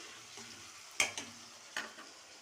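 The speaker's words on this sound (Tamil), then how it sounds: "நல்லா பொரிஞ்சு வருது" Food frying in a pan, a quiet low crackle punctuated by a few sharp spatters and spoon taps, close and faint with no talking.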